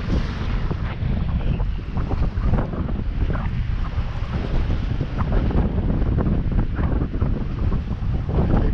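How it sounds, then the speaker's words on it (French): Strong wind buffets a sailboat riding at anchor on a long chain, a constant loud roar with gusting rumble against the microphone and the wash of waves around the hull, no voices. "Et bien du vent, du vent, du vent, du vent au mouillage."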